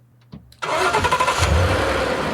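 A BMW car engine in a video game cranks and catches, then settles into a steady, loud idle with a low throbbing hum close by.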